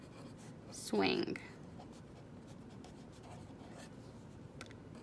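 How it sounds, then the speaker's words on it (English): A pen scratches briefly across paper as a word is written during a phonics lesson, a short close stroke burst with a voice speaking around it. "So I'll write tire"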